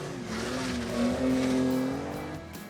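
Historic racing cars pull out of the pits one after another, a fairly distant engine note climbing and swelling in pitch before easing off, heard without commentary over it.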